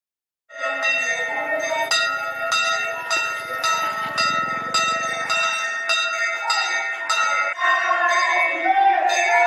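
Temple bells ring over and over in a steady, bright metallic rhythm during an aarti for Shani Jayanti, loud and close, with the murmur and calls of a crowd underneath.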